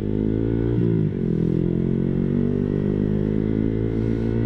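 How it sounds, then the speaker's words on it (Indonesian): A motorcycle engine braking while downshifting to first gear holds a loud, steady, close rumble with a brief pitch dip as the gear drops, then settles back into an even drone. "Nah, ini engine braking saya, lepas gas ke gigi 1"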